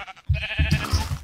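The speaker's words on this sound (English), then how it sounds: "I hear an sheep." A Minecraft sheep bleats in a short wavering baa, close and clear, pulsing in a few quick beats with no talking over it.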